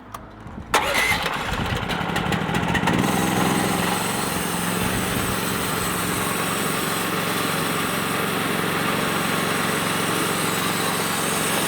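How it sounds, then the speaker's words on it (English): A sawmill working cedar wood into a mantel starts up with a sharp onset after a brief quiet moment, then settles into a loud, steady engine roar with a broad mechanical whine that runs unbroken to the end. "And now we can start trimming up some good cuts."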